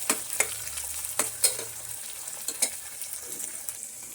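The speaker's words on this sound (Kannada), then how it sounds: "ನೋಡಿ, ಇದು ಚೆನ್ನಾಗಿ ಬೇಯೋಕ್ಕೆ ಶುರು ಆಗಿದೆ. ಗೋಲ್ಡನ್ ಬ್ರೌನ್ ಬರೋ ತನಕ ಬೇಯಿಸ್ಕೊಳ್ಳಿ." Onions and other ingredients fry toward golden brown in a pan for cabbage pulao, a soft continuous sizzle broken by a few crisp spatula scrapes and taps, close and moderately quiet.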